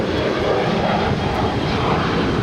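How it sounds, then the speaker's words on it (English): A Boeing 777-300ER airliner roars down the runway on its takeoff roll at Los Angeles International Airport, a loud, steady broadband jet engine rumble that stays constant throughout with no voices. "the ANA on the Pond Airways 777-300ER heading down 24 left there on the north side"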